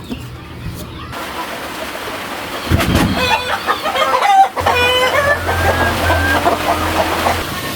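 Rhode Island Red hens and a rooster cluck repeatedly close by in a series of loud, uneven calls, with rustling and a brief voice in the background.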